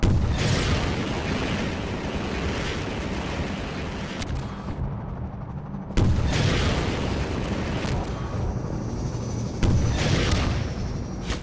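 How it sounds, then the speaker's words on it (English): Muffled rocket explosions striking gunships in Half-Life 2, a series of deep rumbling booms layered over continuous roaring combat noise, with sharp new blasts landing every few seconds. "the muffled explosions from the rockets hitting the gunships are different based on how far you are"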